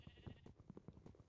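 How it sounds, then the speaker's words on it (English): Sheep in the video game Minecraft bleat in a quick series of short, faint calls, several overlapping bleats in a row with no talk. "I hear sheep."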